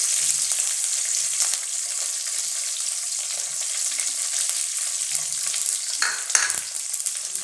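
Mustard seeds and curry leaves frying in two spoons of hot oil in a pan, a steady dense sizzle with fine crackling throughout, close and fairly loud, with a brief louder burst of spattering near the end.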